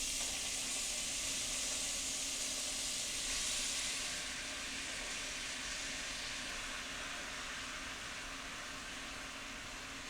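Tomatoes hit a hot pan of cooking shallots for smoky chipotle tomato jam, giving a loud, broad sizzle that hisses steadily, strongest at first and then settling into a slightly softer, even fry with no voices.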